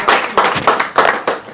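Students clap for their group captain in a few loud, close bursts of scattered hand claps with short gaps between them.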